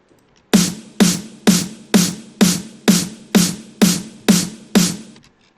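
Ten crisp, punchy snare hits from two layered snare samples repeat at an even pace, each a bright crack with a full body, loud and alone.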